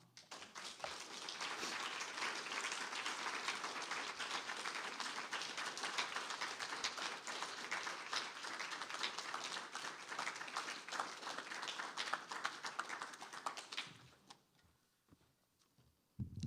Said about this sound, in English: Can we have another round of applause for the beautiful poetry of Oliver de la Paz?